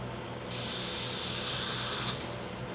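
Lighter fluid sprays in a single steady hiss lasting about a second and a half as a dolphin lighter is refueled through an ill-fitting nozzle with no adapter, close to the microphone in a quiet room.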